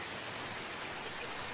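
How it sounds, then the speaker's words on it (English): Steady rain pouring down, a soft, even hiss with no breaks, fairly faint and heard alone as background ambience during a tabletop game session. "You just hear, some rain pouring down."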